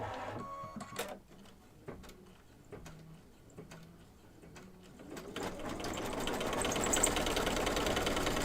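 An embroidery machine stitching a Stitchwood Hollow design makes scattered clicks and thumps at first, then builds into a continuous, rapid mechanical chatter of stitching, moderately loud and without voices.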